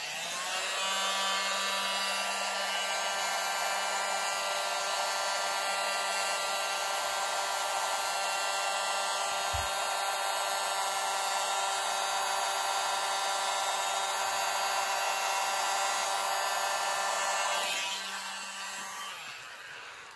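A hair dryer blows across wet acrylic pour paint, a loud, steady, close whir with a constant hum that runs unbroken for nearly twenty seconds before winding down.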